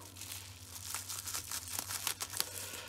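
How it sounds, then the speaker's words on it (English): Bubble wrap packaging is cut open and pulled apart, making close crinkling and tearing rustles in irregular bursts with a few sharper snaps toward the end. "Just fighting with the bubble wrap there."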